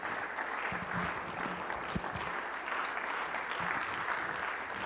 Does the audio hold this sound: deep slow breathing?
no